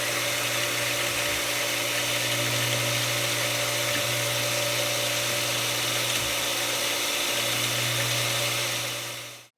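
A water pump runs steadily near a Poverty Hill homestead, a continuous mechanical hum and whine holding an even drone with no talk over it.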